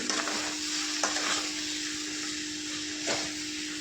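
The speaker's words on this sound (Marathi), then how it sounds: "पुन्हा एकदा परतून घ्यायचे बटाटे" Potatoes and onion sautéing in a pan for a spicy potato chutney give a steady low sizzle, with a few soft scraping stirs near the start and again near the end.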